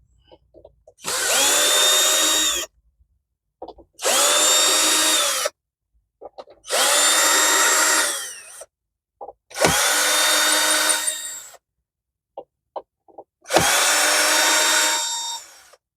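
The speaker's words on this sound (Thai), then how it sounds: "ถอดน็อตลำโพงครับ" A power drill whirs in five separate bursts of about a second and a half each, with short pauses between, close and loud, unscrewing speaker bolts.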